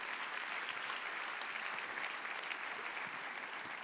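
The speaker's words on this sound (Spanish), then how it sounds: "Dale más fuerte ese aplauso al Rey, por favor." Church congregation applauding during a Spanish-language sermon, a steady dense wash of clapping that holds at an even level throughout, with no talk over it.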